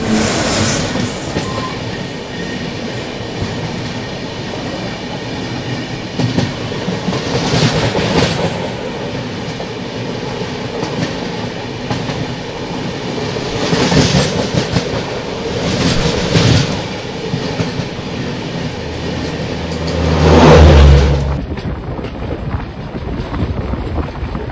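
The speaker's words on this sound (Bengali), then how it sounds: "সামনে আসছে train number 22644 Ernakulam superfast express." The 22644 Ernakulam Superfast Express rolls past close by, its wheels beating a rhythmic clickety-clack over the rail joints, loud and continuous, with a heavier surge near the end before it cuts off abruptly.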